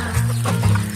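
A farmyard chicken clucks nearby, low and steady, in a short close burst with no voices.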